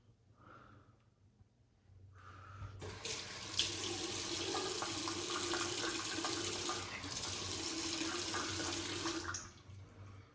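Running tap water rinses soap off the handle of a Paladin ebonite shaving brush at a bathroom sink, a steady close rushing stream that starts after a couple of seconds of near quiet and flows on until the end.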